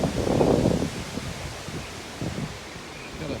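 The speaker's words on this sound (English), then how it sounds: "I got some nice little gusts." During Hurricane Idalia, a gust of wind rushes loudly past the microphone at the start, then fades into softer, uneven blowing and rustling.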